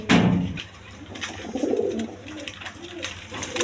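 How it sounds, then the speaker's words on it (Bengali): A pair of high-flying Giribaz pigeons coo in soft, low, rolling phrases, one near bout early and another around the middle, with faint background noise between calls. "এক পেয়ার হাই ফ্লাইং গিরিবাজ কবুতর আছে"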